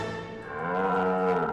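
A buffalo lows in a single drawn-out, deep, harmonic moo, loud and close, heard alone without talk.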